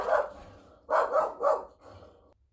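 A dog barks several times from a short distance: one bark, then a quick cluster of three sharp barks, then a softer final one. No one talks.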